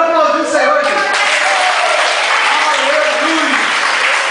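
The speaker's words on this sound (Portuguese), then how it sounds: "Olha o aplauso do Senhor, gente." Church congregation at a healing service led by Pastor Antonio Menezes breaks into loud, sustained applause that fills the room. A voice is heard briefly at the start before the clapping takes over.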